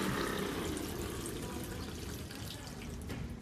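A homemade centrifugal pump draws water from a tank, giving a continuous splashing, gurgling flow like a running tap. It holds fairly steady and moderately loud throughout, with no talk.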